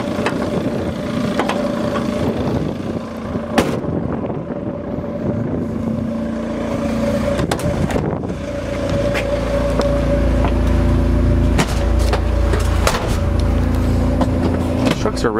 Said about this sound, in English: Diesel motor under here runs great, no issues.